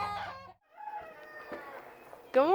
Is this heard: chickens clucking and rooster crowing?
yes